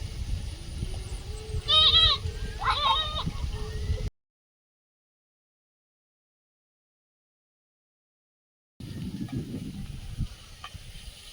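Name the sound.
goat bleating near the garden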